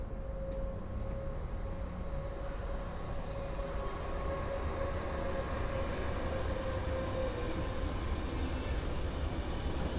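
A PKP Intercity Wysocki train bound for Katowice passes through Warszawa Główna station with a continuous rumbling roll of wheels and carriages, steady and fairly close, a faint tonal hum running through it.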